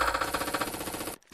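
Rapid automatic gunfire in the survival shooter Last Island of Survival, a dense loud burst of repeated shots that cuts off abruptly near the end, followed by brief quieter game sounds.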